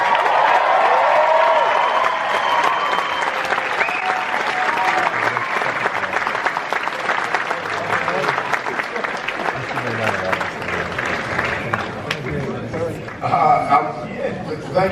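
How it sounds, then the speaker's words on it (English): Loud crowd applause with cheers and whoops fills the whole stretch, dense and steady, at the Furiosa Mad Max world premiere red carpet, with a few voices calling out over the clapping near the end. "let's give them all a big round of applause"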